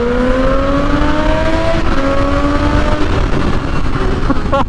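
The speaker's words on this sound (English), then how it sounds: "Yeah, that is a reminder of how good Daytona 675 is. Buy one for that noise." A 2010 Triumph Daytona 675 engine accelerates hard, its pitch climbing steadily through the revs with a brief dip at a gear change, loud and close over wind rush.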